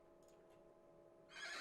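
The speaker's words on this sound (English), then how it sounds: "What a beautiful band of horses here." A horse in the video game Dawn of Man gives a faint, distant whinny over a low hum, ending in a brief burst of brighter noise.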